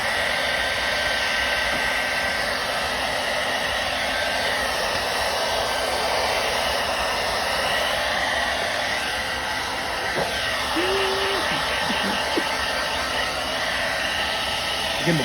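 A hair dryer blows steadily and loudly on raw turkey skin to dry it before smoking for Thanksgiving, a constant whooshing hum running throughout with a brief faint tone near the end.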